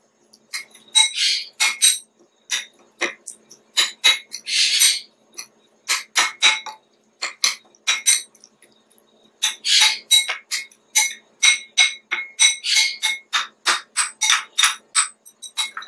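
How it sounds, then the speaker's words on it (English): Ingredients are crushed together in a bowl or mortar for a homemade weight-loss remedy, giving a long run of sharp, irregular knocking and clinking strikes in bursts with short pauses, close and fairly loud. "Then we're going to crush this together. Let's crush it together."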